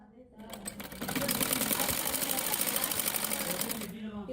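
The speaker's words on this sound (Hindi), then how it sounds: "अब मैंने ये पहली सिलाई मुकम्मल तौर पर लगा ली है। इसके बाद अब मैं ये सेकंड लगाऊंगी।" Sewing machine stitching lace onto a dupatta, a steady continuous mechanical whir that runs at close range for nearly the whole stretch, with no voices over it.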